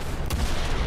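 Tank ammo rack hit and igniting in War Thunder, a loud burst of gunfire-like explosive cracks and a booming rumble over ongoing battle noise.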